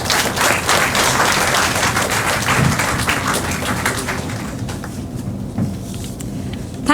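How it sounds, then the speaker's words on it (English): An audience claps for a speaker at the inaugural function of an interpreting workshop, a sustained burst of applause that slowly tapers off. "A huge round of applause for sir again, please."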